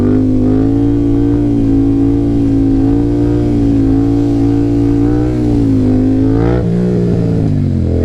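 Yamaha FZ-07 motorcycle accelerating hard in second gear for a wheelie, its engine loud and close with a steadily climbing revving note, then a brief drop and recovery near the end.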